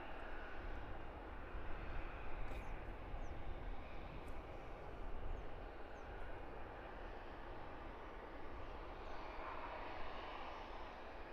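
An EasyJet Airbus A320-200 on the move at Luton Airport, a steady broadband jet engine roar that stays at an even loudness throughout, with no voices.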